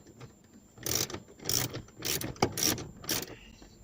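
A ratchet clicks in about six quick, evenly spaced bursts while removing a screw from the center console of a Porsche Boxster 986, close and crisp with short pauses between strokes.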